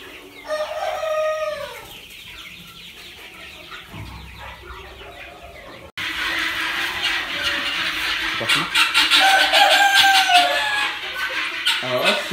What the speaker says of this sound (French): c'est des petits poussins qui ont 6 semaines.